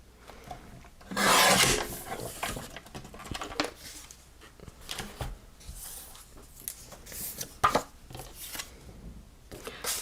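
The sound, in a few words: trimming a paper card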